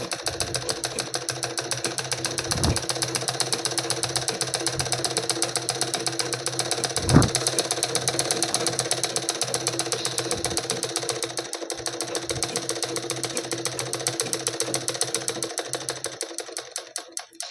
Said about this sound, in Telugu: కుడుతున్నాను.